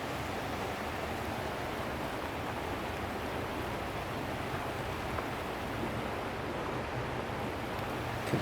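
A fast-flowing river runs along a shoreline, giving an even, continuous broadband rush at moderate distance with no talking.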